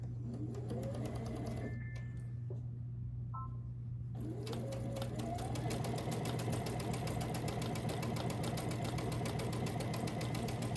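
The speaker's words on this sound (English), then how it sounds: "I'll take this to the sewing machine and I'll sew a 1/4 inch on each side of this" A sewing machine stitches a quarter-inch seam on quilt pieces, a steady close motor hum with rapid needle chatter running nearly throughout, pausing briefly near the middle before resuming.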